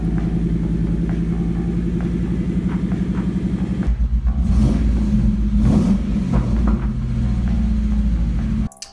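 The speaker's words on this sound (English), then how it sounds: "I was able to pull out the Mustang for the first time in about 8 months" A Ford Mustang engine, started after sitting unused for about eight months, rumbles loudly nearby with a few revs, then cuts off abruptly at the end; nobody speaks.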